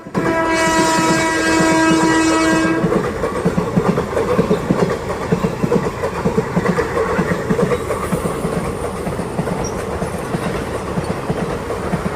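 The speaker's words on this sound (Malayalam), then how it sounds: "കോഴിക്കോട് എക്സ്പ്രസ് ആണ് ഇതാ വന്നുകൊണ്ട് നിൽക്കുന്നത്" A train horn sounds for a few seconds, then a long express train hauled by a WP4 locomotive rolls into a station past the listener, with steady rhythmic clatter of wheels on track.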